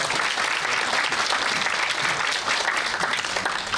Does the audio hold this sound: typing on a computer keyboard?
no